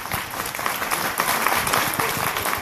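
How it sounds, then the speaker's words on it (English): Warm audience applause for a family at the close of a talk on Muhammad Ali's legacy, steady dense clapping filling the room at moderate loudness throughout. "give a warm applause to this wonderful family"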